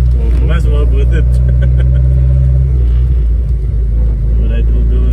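A Datsun car engine revs and hums steadily while driving, a loud continuous low rumble with slight rises in pitch, as people talk over it inside the car.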